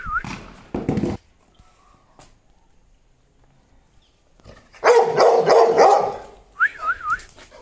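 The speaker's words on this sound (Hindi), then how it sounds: "हमारे राहुल भाई के कुत्ते हैं ये" Dogs bark in loud bursts with whimpers and whines, near and close together, in short clusters with a quiet gap in between, mixed with human voices and whistling.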